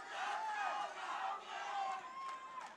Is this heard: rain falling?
no